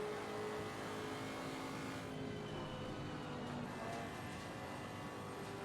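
Race car engine in Assetto Corsa Competizione, played in VR, running steadily and loud with an aggressive tone, holding a sustained drone throughout with slight shifts in pitch and no talking.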